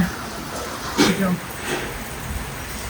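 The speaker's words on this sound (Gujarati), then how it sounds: "બહુ બધો વરસાદ જો હું તમને બતાવું" Steady rain hisses throughout, with a brief muffled voice-like burst partway through.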